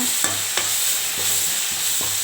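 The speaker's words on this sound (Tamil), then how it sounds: "1 ஸ்பூன் அளவுக்கு பெப்பர் எல்லாம் போட்டு நல்லா மிக்ஸ் பண்ணிக்கோங்க." A spoon stirs garam masala and pepper in a pan for chicken thokku, giving several scraping strokes at an uneven rhythm over a steady low sizzle, close and clear with no voices.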